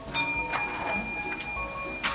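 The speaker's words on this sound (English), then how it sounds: "You know you're a pro at hitting the bell." A dog training bell is struck several times in a row, bright ringing tones with a sustained metallic shimmer standing out clearly over quiet room noise, with no talking.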